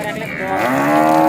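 A cow moos at a busy cattle market in Ishwardi, Pabna, Bangladesh, one long drawn-out low call that swells louder toward its end, close and clear.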